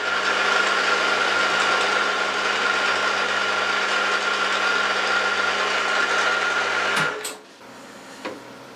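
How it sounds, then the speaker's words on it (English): A steady whirring drill countersinks a 2.5mm hole in metal for about seven seconds, then stops abruptly, leaving a few faint clicks and a light tap. "Countersink the hole to give me a lead for the oil can."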